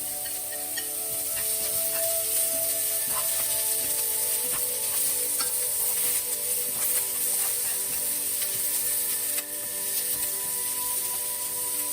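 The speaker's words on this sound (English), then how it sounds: "Stir fry and mix them well for another 1 minute." Carrots and cabbage being stir-fried in a pan for vegetarian fried noodles give off a steady, even sizzle with a broad hiss and faint scraping, close and continuous without talk.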